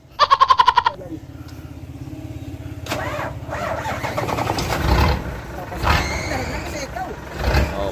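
A Mitsubishi engine cranks with a rapid rhythmic starter whir, just repaired, then catches and settles into a steady idle with revs rising and falling, as people talk over it.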